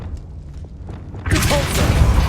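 A Confringo fire spell explodes in the Hogwarts Legacy video game: a sudden loud, broad blast bursts in after a quiet stretch of low ambience and rumbles on to the end.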